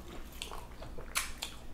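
Close bites and chews on pizza and sushi rolls at a home meal, with a sharp crisp crunch of crust among softer wet chewing sounds.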